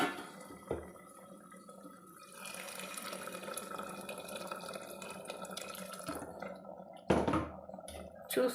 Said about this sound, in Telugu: ఇప్పుడు నీళ్ళు వేసుకుందాం.